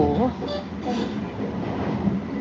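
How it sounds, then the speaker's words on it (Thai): A train rumbles and clatters past at close range, a steady heavy roar, with a voice speaking briefly at the start. "อุ้ยเสียงรถไฟไหม"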